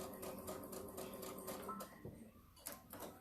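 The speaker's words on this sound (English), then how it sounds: "sewing machine is still going kind of slow." Domestic sewing machine piecing jelly roll fabric, running slowly with an even, chattering rhythm up close that eases off partway through, followed by a few soft handling clicks.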